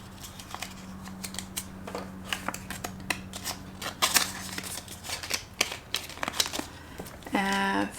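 Close, quiet rustling and crinkling of paper as cash is handled and stuffed into paper envelopes, with soft crisp flicks of bills and a brief buzzing tone near the end.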